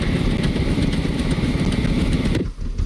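Vehicle engines run in the game Scrap Mechanic, a loud, dense, continuous motor drone with a rough low rumble that drops out abruptly near the end.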